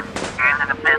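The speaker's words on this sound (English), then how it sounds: "Just keep shooting." Animated gunfire from a Supergirl story: several quick loud bursts of shots in succession, with a voice speaking briefly in the mix.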